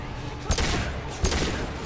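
Rapid bursts of gunfire ring out during a firefight in Mass Effect 2, with two sharp volleys standing out over a dense, steady bed of battle noise.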